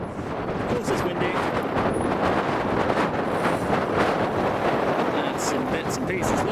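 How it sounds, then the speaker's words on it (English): Strong wind buffeting the microphone outdoors at a car show, a loud, continuous rushing roar with gusty swells throughout, while someone talks over it. "Of course it's windy."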